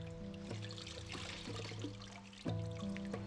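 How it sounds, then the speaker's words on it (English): Water poured over loofah gourds on a farm to steep them, a quiet trickling pour that runs throughout, with a low tonal hum beneath and a brief surge near the end. "Farmers steep them in boiling water from a natural spring."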